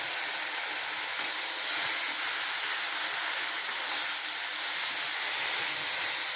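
Ginger garlic paste and meat sizzle hard in a hot pan, a loud continuous hiss and crackle that stays even throughout.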